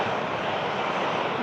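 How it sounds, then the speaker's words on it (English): A Lauda airliner bound for Palma de Mallorca departs Manchester with a steady, loud broadband jet roar that holds without letup, and a voice talks faintly underneath. "Lauda for Palma de Mallorca. It's going to be the next aircraft to leave us at Manchester."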